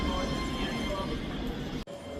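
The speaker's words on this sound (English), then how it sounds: "This train is coming in about 3 minutes late." A ScotRail train arriving at Edinburgh Haymarket station, running a few minutes late: a steady, close rumble of rail wheels and motors fills the clip, then cuts off abruptly near the end.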